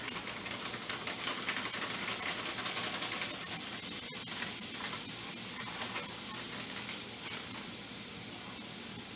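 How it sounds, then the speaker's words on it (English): Loud, steady hiss of riced vegetables steaming in a hot pot, with faint crackling sizzle throughout and no talking. "And that's already steaming really good."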